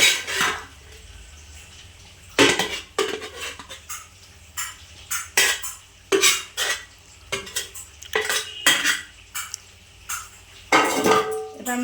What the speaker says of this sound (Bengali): এবার মাখাবে, যেরকমভাবে তোমাদের সুবিধা হবে সেভাবে মাখাবে